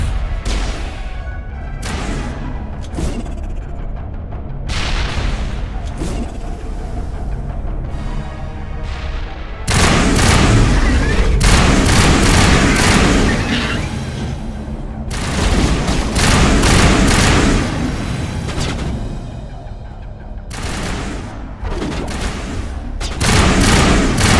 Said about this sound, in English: Release the barrage!